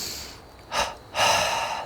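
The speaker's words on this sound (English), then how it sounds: "2 inhales through the nose, 2 exhales through the mouth." Two sharp breaths in a double-breathing pranayama exercise, a short audible inhale followed by a longer, louder breath, close and clear against a quiet room.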